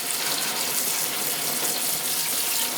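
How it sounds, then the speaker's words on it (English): Prepared chicken rinsed under a running kitchen tap, a steady, close, full hiss of gushing water that stays even and unbroken for the whole moment. "So just a real quick rinse."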